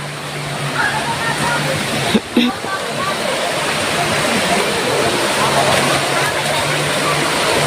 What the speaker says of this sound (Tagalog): Ang haba ng ilog na to guys.